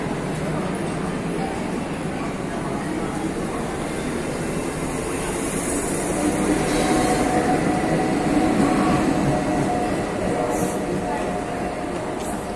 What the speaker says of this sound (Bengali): দাদা স্টেশনটি মুম্বাইয়ের অন্যতম ব্যস্ততম রেলওয়ে স্টেশন।